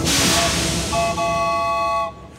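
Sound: cartoon train pulling into a station

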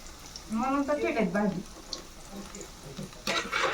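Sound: fish pieces frying in oil

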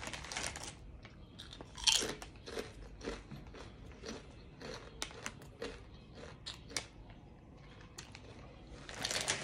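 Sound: chewing tangy ketchup Doritos chips

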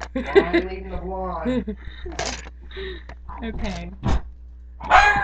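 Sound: dogs barking

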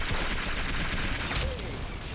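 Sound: gunfire in the video game Roblox Arsenal

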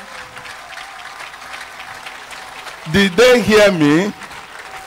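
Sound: congregation clapping for Jesus

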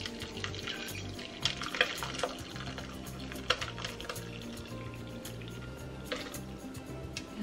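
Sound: milk powder curds draining through cheesecloth in a sieve

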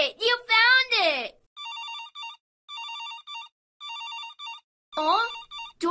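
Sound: telephone ringing in a Dora the Explorer video game

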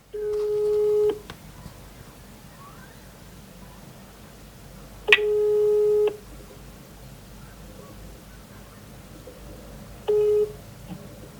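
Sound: telephone ringing tone while calling the winner

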